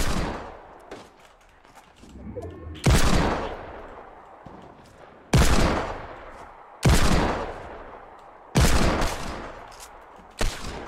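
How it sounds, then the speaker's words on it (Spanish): Heavy single Desert Eagle gunshots in a Fortnite tournament match, about six loud blasts spaced a second or two apart, each decaying with a booming tail. "los tiros de Deagle que estoy agarrando es impresionante"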